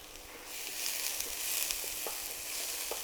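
Salted onions softening in a pan give a gentle, even sizzle with light intermittent crackles, fairly quiet and close, with no talking.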